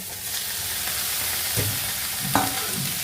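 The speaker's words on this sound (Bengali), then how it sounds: "এবার এটাকে নেড়ে চেড়ে এটাকেও ভাজতে হবে পেঁয়াজটা পুরো হালকা ব্রাউন হওয়া অবধি নাড়তে হবে" Onions being stirred and fried in a pan for Bengali-style ghughni, a steady close sizzle with scraping stir strokes throughout, a sharper clatter near the end, no voices.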